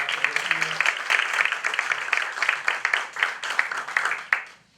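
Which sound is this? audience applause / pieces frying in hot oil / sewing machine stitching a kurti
audience applause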